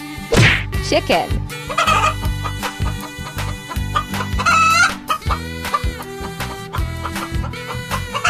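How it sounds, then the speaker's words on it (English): A cartoon chicken clucks repeatedly in close, bright bursts over upbeat, continuous children's cartoon music during a playful animal game. "Chicken."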